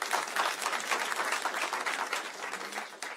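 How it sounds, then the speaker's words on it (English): Audience applause at a subdivision hearing: a steady, dense wash of many hands clapping, fairly close and continuous for about three seconds, with no talking over it. "how can we not applaud these people for what they've done out there?"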